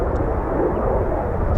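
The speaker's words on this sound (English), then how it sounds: "the Eurofighter Typhoon" A Eurofighter Typhoon jet performs a touch and go at RAF Coningsby, its engine roar broad, steady and loud throughout the short stretch, with no voices heard.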